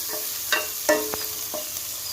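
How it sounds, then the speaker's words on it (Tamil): Long-sliced onions sauté in a pan for mint pulao, with a faint, low sizzle broken by a few quick scrapes and stirs of a spoon. "அடுத்தது நான் கட் பண்ணி வச்சிருக்கிற வெங்காயம் நல்லா நீள நீளமாக கட் பண்ணி வச்சுக்கோங்க போட்டு இதை கொஞ்சம் நம்ம நல்லா வதக்கி எடுத்துக்கலாம்"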